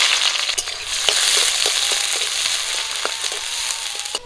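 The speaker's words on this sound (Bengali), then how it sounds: "গরম তেলে দিয়ে দিচ্ছি পেঁয়াজ কুচি।" Chopped onion hits hot mustard oil in a kadai, producing a loud, continuous frying sizzle with sharp crackles and pops throughout.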